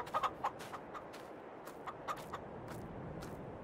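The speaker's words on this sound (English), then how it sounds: "There's only two chickens." Chickens on a farm in Farming Simulator 22 give a few soft clucks early on, then occasional faint ones over a steady low background hum, with no talking.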